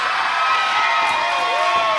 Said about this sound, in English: The crowd here in Brewer rallying behind the Silver Sniper